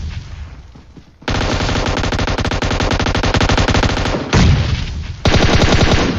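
Rapid automatic gunfire in a shooting video game, loud, dense and sustained bursts of shots nearly filling the clip, with one brief break and a heavier blast just before the final burst.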